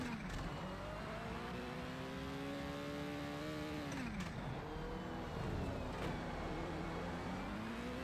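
A rally car engine in the Rallisport Challenge video game on an ice racing course, revving steadily with rising and falling pitch as it accelerates and shifts gears, close and continuous with no talking.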